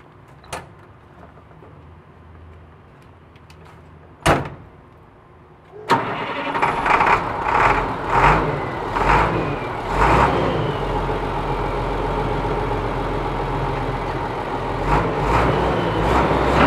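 A 1999 International 4700 truck with a DT466E diesel engine cranks over after a couple of sharp knocks, catches, and settles into a steady, loud, rough-edged idle that runs on to the end.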